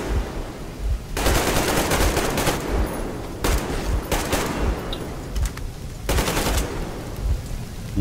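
Bursts of rapid automatic gunfire in the video game Metro Exodus, loud repeated volleys separated by short gaps, with a faint voice underneath at times.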